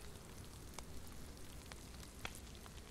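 Rain falls in the DayZ video game as a steady, faint hiss of patter with a few sharper drops, heard alone without talk.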